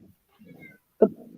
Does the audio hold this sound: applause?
no